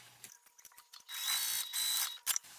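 A sewing machine stitches across the seam allowance of a crossbody cellphone bag pocket, giving a steady close mechanical whir in two long bursts after some small handling clicks, with a short sharp rattle near the end.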